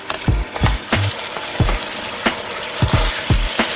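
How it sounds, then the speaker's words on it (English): Canned dal hits hot oil with a burst of sizzling and frying, followed by repeated scraping and stirring thumps in a pan, close and fairly loud. "So I drop my dal in now."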